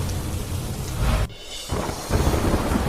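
Heavy downpour over Mandvi and Mundra in Kutch, Gujarat: a dense, steady hiss of rain mixed with deep rumbling thunder, dropping briefly quiet midway before the roar of the rain returns.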